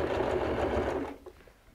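A sewing machine runs a short, fast burst of stitching along bias binding on a recycled denim jeans bag, then slows and stops with a few faint mechanical clicks.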